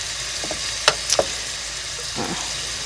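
Chicken meat frying in oil in a frying pan gives a soft, continuous sizzle, broken by a few sharp crackles and pops and a brief scrape of stirring, with no talk.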